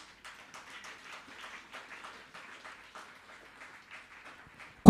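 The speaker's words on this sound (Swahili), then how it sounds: "Tupigie Yesu makofi" A church congregation at a live youth seminar claps in scattered, faint, uneven bursts for several seconds. It ends with a sudden loud knock or thump right at the close.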